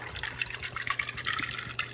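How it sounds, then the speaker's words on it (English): Water poured from a tap or jug into a glass of ice, garden-picked strawberry mint and squeezed calamansi, a quiet steady trickle and splash with faint clinks, alone with no talk. "Then I'll just add water"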